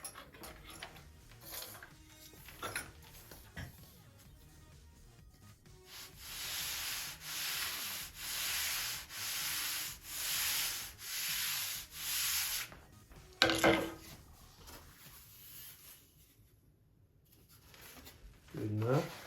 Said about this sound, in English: Get it ready, and we'll sand that bevel.